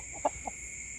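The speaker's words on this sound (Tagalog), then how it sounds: "Ang napakalaking manok nito, maraming dugo to kaya tuwan-tuwa yung mga lamok sa kanya." A large chicken clucks twice in quick succession, one short close cluck followed by a fainter one, over a steady background hum.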